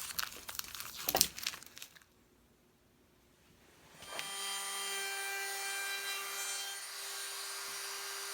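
Wooden step stool parts get scraped and rubbed in bursts of gritty abrasion, followed by a pause and then a steady hiss with a faint hum, all quiet and close.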